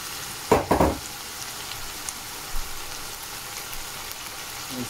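Potato added to chicken keema curry frying in a pan, two quick clattering drops followed by a soft steady sizzle with a few faint later knocks.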